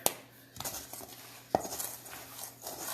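Gluten-free almond cookie dough being mixed by hand in a bowl, with sharp utensil clinks against the bowl, one near the start and one midway, amid softer scraping and patter.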